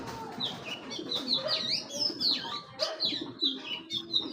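Birds call and chirp repeatedly at close range, with soft cooing from a silver-eyed racing pigeon mixed into a busy, continuous background.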